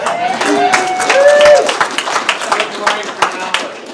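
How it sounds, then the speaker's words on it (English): Applause from a small audience at a political discussion event in Parkland, Alberta: scattered, close-sounding claps mixed with voices talking over them, loudest early and thinning out. "Give this man applause."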